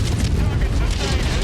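Ammo explosion in the game MechWarrior 5 Mercenaries: a loud, dense, roaring blast with rumbling booms and crackling debris that fills the whole moment without letting up.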